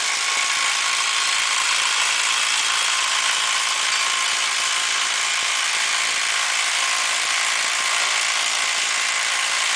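A power tool spins steadily on a wheel bearing bolt of a 1997 Toyota front hub, a continuous near, loud whirring drone with a ratcheting mechanical edge, running unbroken throughout without talk.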